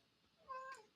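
A single short meow from a cat, fairly faint and close, rising then falling in pitch against a quiet background.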